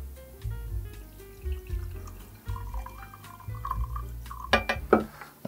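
Wine poured from a glass decanter fitted with a built-in aerator spout, a steady liquid trickle and splash into a glass, with clinks and a louder gush near the end, close and fairly quiet.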